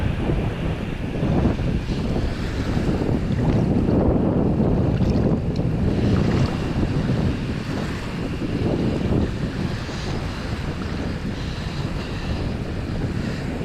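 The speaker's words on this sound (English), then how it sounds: "And the wind's picked up a little too" Steady gusty, cold wind roaring across the open shore of Hazards Beach, with a broad rumble and a wash of surf underneath, loud and continuous throughout.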